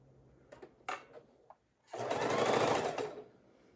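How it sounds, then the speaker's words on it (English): A sewing machine stitches quilt blocks together, with a few short clicks and taps first and then one steady whirring run of about a second and a half at close range. "fold them on top of each other, and sew them up."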